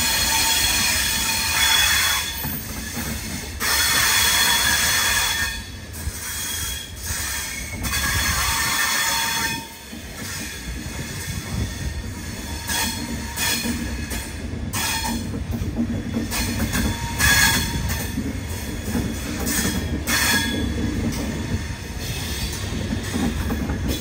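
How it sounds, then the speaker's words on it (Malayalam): The Charminar Express passenger train runs around a curve on its approach to Secunderabad Junction, with loud continuous rumble and high wheel squeal rising and falling throughout, heard from inside a sleeper coach. "ഈ ട്രെയിൻ വളഞ്ഞു പോകുന്ന കണ്ടാ, എല്ലാ സ്പീഡിന് നല്ല ജെർക്കിങ് ഉണ്ട് കേട്ടോ."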